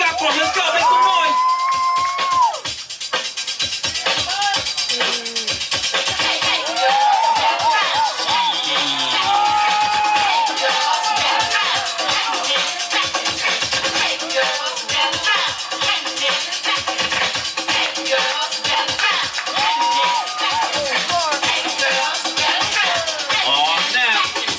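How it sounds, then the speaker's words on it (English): Crowd at a crew dance battle hollering and cheering steadily throughout, a dense, loud wall of whoops and shouts with a host's voice breaking through over the noise. "Yo, crowd, what you got for us? Let's go, make some noise."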